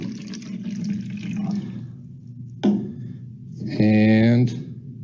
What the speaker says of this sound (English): I'm going to go ahead and fill this measuring cup up to 1 cup with my food coloring water